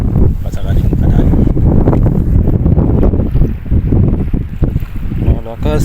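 Strong wind buffets the microphone in loud, continuous gusts at a seaside fishing spot on Al Reem Island, Abu Dhabi, with a low rumble throughout and faint water sounds underneath.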